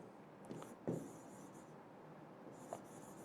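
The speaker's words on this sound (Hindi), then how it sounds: "लिखेंगे कॉग्निटिव" Chalk or a pen scratches out a word on a board in a handful of short, quiet strokes and taps, separated by brief pauses in a near-silent room.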